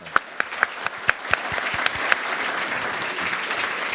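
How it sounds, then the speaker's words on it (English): An audience at a fireside conversation event applauds to welcome the speakers, starting with a few sharp distinct claps that quickly blend into steady, moderately distant clapping. "please give AAG Jonathan and Christina a welcome"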